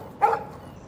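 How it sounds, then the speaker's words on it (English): A dog in the video game Life is Strange gives one short, loud bark that breaks off quickly and leaves quiet behind it. "No barking."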